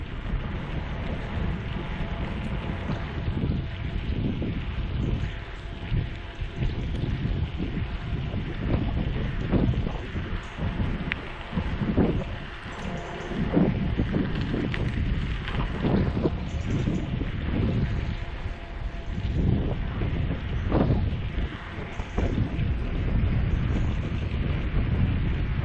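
Wind buffets the microphone while a mountain bike rides along a cycle path at Andernos-les-Bains, a continuous low rumbling roar with gusty surges throughout and no talking.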